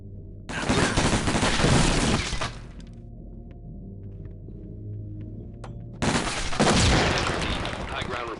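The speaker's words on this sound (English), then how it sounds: "Be advised, the suspects are erratic and shooting each other." Gunfire in the tactical shooter game SWAT 4 as suspects shoot each other: two loud, sustained bursts of rapid shots with a quiet gap between them, alone without talk.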